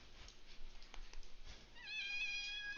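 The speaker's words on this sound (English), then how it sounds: "Why are you screaming at me?" A cat lets out a loud, rising meow near the end, tonal and insistent, after a stretch of muffled room noise.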